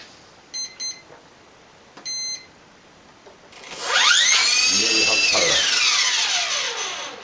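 Electronic speed controller on an MJX F645 RC helicopter with a brushless-motor mod: two short pairs of high beeps, then a louder rising and falling electronic whine that holds for a few seconds and fades, close and clear.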